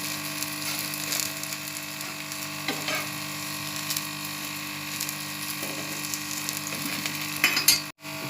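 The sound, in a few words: bajra roti cooking on a hot griddle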